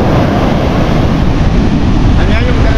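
Big ocean waves crash and roar during a typhoon at sea, loud and continuous, with heavy wind buffeting the microphone throughout.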